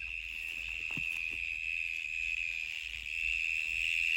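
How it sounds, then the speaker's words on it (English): Cicadas drone in an evening garden, a continuous high, steady buzz running throughout at moderate distance with a few faint rustles and thumps nearby. "you can hear the cicadas going for it."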